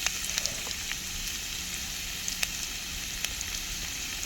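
Ginger pieces sizzle in hot oil for a chicken manchurian, a steady soft frying hiss with a few sharper crackles and pops, heard close and alone.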